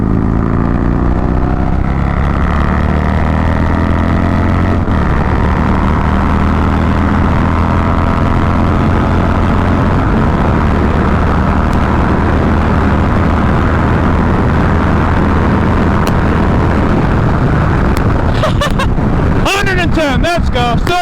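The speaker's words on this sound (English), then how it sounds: "Curious to see what the wind noise is going to look like on the GoPro" Wind roars around a motorcycle fitted with a fairing during a test ride. A loud, continuous rush sits over a steady engine drone, with brief buffeting bursts near the end.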